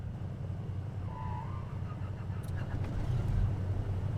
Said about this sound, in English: Engine 2 is gonna start again now.